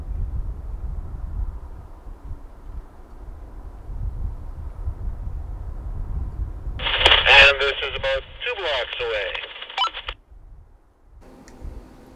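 Retevis RT49 two-way radio transmission about half a kilometre away, a band-limited burst of muffled, slightly static-laced speech through the handset lasting a few seconds over steady outdoor background noise.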